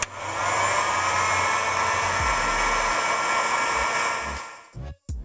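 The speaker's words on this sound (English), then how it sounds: "Use a heat gun, not a torch, for safety reasons." A heat gun shrinking heat-shrink tubing during installation of a Rigid Adapt controller, producing a loud, steady blowing roar that holds for about four seconds, then cuts out with a brief sputter and a short restart.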